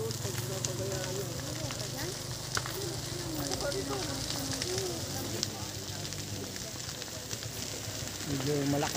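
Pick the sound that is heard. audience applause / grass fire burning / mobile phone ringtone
grass fire burning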